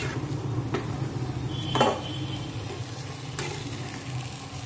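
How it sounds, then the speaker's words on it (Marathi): Semolina sheera loosened with ghee gets stirred in a pan for Satyanarayan prasad, a low steady sizzle with soft scraping strokes and a brief louder scrape midway, close and without speech. "आता याला थोडंसं आपण हलवून घेऊया"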